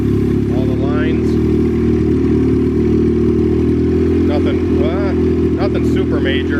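A turbocharged Honda Civic engine idles loud and close with a steady, slightly lumpy hum, idling up a little, while someone talks over it.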